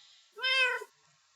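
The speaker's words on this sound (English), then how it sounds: "Oh, this cat." A cat gives a single clear, close meow lasting about half a second against a quiet background.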